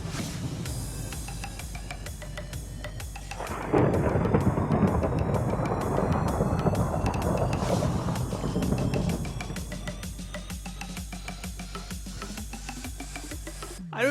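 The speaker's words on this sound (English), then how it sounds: "It's storming again." Heavy rain and rolling thunder from a Minecraft thunderstorm, a loud broadband roar that swells sharply midway and then settles into steady downpour, with a fresh rumble at the very end.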